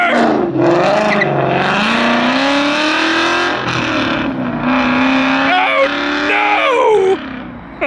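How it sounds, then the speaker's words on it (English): A Ford Mustang drifting out of a car meet revs hard with a loud, wavering engine howl that rises and falls, before the sound drops off sharply near the end as it hits the curb; voices shout and cry out over it. "he went right in the curb, popped his bumper off"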